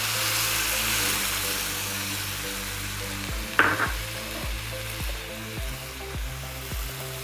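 Grated carrots frying in a pan for carrot halwa give a loud, steady sizzle and hiss throughout, with a sharp metallic clank of a utensil against the pan midway and stirring scrapes after it.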